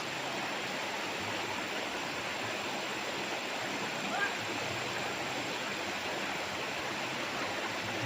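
A clear river in Liliw, Laguna, beside a farm lot where people bathe, flows with a constant, even rushing hiss that holds steady throughout and stays fairly soft, with no voices over it.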